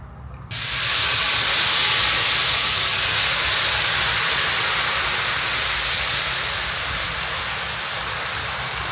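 Ragi multigrain dosa batter hitting a hot dosa pan bursts into a loud, bright sizzle after a brief quiet start, then holds a steady, close hiss that fades slowly.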